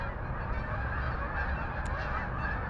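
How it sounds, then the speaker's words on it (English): Geese honk while flying overhead above a savanna hiking trail, a steady run of calls over constant outdoor background noise. "With the geese flying overhead."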